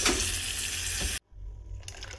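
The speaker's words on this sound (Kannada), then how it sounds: "ಆಮೇಲೆ ಇದಕ್ಕೆ ಸಾಸಿವೆ ಸಿಡಿದ್ಮೇಲೆ ಒಗ್ಗರಣೆನ ಸಾರಿಗೆ ಹಾಕ್ತೀವಿ" Mustard seeds and curry leaves tempering in hot oil, poured into wood apple rasam: a loud, steady sizzle that cuts off abruptly, then a softer, hissing bubble continues.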